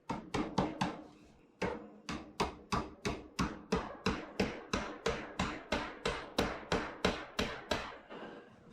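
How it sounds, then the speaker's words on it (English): A hammer drives nails through trim boards on a wooden Hoosier cabinet: about twenty sharp, ringing blows in a steady, fairly even rhythm, close and loud, with one short pause after the opening few strikes. "So we'll get this one nailed into place as well"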